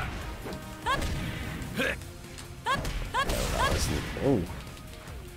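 Heavy smashing blows from a close-up special-move finisher in the fighting game Dead or Alive 6, a series of hard thwacks and crashes landing in quick succession amid busy game noise, with a brief voiced exclamation.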